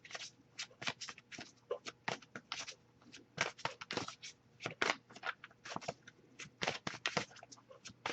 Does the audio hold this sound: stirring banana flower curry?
no